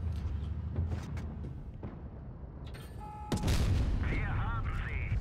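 A tank cannon in World of Tanks Blitz booms at around three seconds, followed by loud battle noise with engine rumble and ringing tones; game sounds fill the clip.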